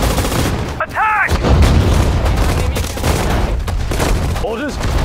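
Rattling small-arms fire and artillery blasts in Sudden Strike 4, fighting at the Mareth Line in March 1943, pound on steadily while brief unit voice responses cut in near the start and end.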